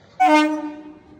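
Horn of a passenger train sounding once in a single sustained blast that fades gradually, fairly loud and clear, with no talk over it.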